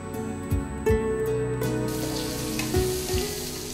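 Onions hit hot oil with turmeric and bay leaf, a close, steady crackling sizzle heard under prominent background music.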